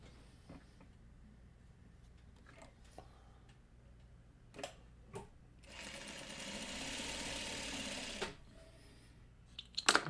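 A sewing machine stitches squares of bias-cut quilt fabric for a Farmer's Wife quilt block, running in a steady whirring burst for a couple of seconds amid quieter handling clicks and thumps.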